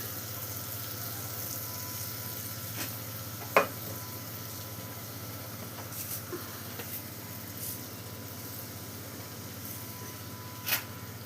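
Oil heating in a wok gives a faint, steady low sizzle, with a few sharp clicks and taps from the pan standing out, close by and without speech.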